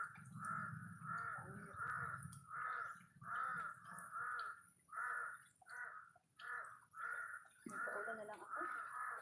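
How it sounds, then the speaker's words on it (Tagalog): Many crows caw repeatedly in a rough rhythmic series, fairly near, with low murmuring voices underneath at the start. "Kaya dinadalo ng mga uwak."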